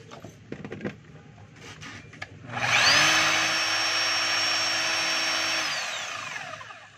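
A DeWalt D25811 5 kg jack hammer, just repaired and switched on for a test, runs with a loud, steady motor whine for about four seconds after a few light clicks, then winds down.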